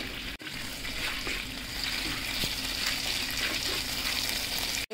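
Whole spices — bay leaf, panch phoron, cloves, shahi jeera, cinnamon and green cardamom — sizzle steadily in hot oil for a chicken and spinach curry, a continuous close hiss with faint stirring.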